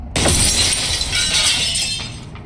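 Glass target shattering in the video game Receiver 2: a loud, sudden crash followed by a bright spray of tinkling fragments that gradually fades.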